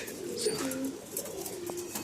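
Pigeons coo softly and repeatedly at close range, low throaty calls over a quiet outdoor background.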